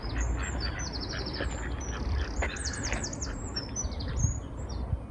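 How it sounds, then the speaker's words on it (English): Ducks quack and chatter repeatedly outdoors, the calls overlapping against a breezy, rumbling background. "Some ducks there having a bit of fun."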